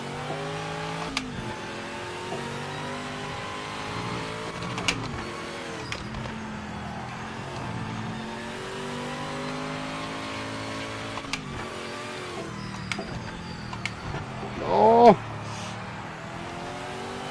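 V8 race car engines drone and rev steadily through a racing game session, with occasional sharp shifts and a brief tire squeal near the end, while a person talks over the engine noise throughout.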